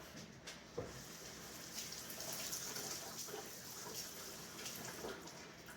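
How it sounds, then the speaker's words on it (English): Something is rinsed under a kitchen tap while elderberry jello is being made. Water runs steadily and softly with a faint splashing hiss, and no one speaks. "Let me rinse this off."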